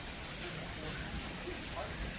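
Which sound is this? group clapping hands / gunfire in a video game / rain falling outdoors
rain falling outdoors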